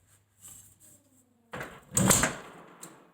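A video doorbell mount sliding onto the edge of an opened door, with faint scraping and a close, louder plastic-on-wood rub and click near the middle, ending in a brief tap.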